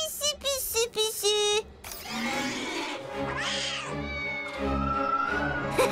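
A cartoon cat meows several times in quick succession, loud and close, followed by squealing, screechy cartoon sounds and music.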